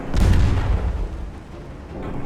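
Naval guns firing in Ultimate Admiral Dreadnoughts, a single heavy boom with a sharp crack that rolls off into a fading rumble, loud and alone.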